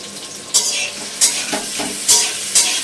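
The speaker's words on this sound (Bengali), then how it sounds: "ভাজা ভাজা হোক।" Sliced onions and chilies with salt and turmeric sizzle steadily in a hot pan, with about four loud scraping stirs at regular intervals.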